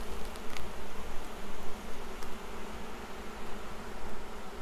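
Honey bees at an open hive fill the air with a continuous, close buzzing hum, steady and unbroken throughout, with no voices.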